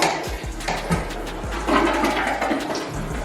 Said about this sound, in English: First flush.